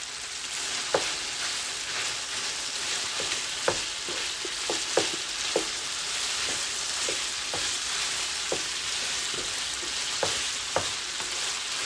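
Black pepper chicken sizzling in a hot pan while being tossed, a steady frying hiss with regular sharp clicks and scrapes from the stirring utensil, close and moderately loud, no talking.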